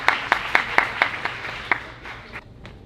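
Audience at the Endo Black Meet and Greet 2022 clapping as a guest comes to the stage: a short burst of crisp, close, rhythmic claps that thin out and fade within three seconds.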